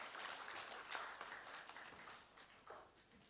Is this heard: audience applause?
yes